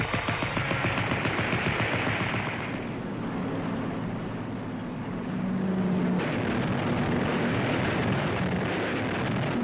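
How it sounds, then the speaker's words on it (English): Rapid bursts of machine-gun fire rattle over a heavy engine drone as a barrage balloon is shot down, with a deep rumbling blast in the middle; loud and continuous. "After a few well-aimed bursts of gunfire, the balloon would explode into a ball of fire"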